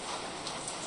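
Steady rain falls in a video game, a soft, even hiss of many drops heard briefly and alone.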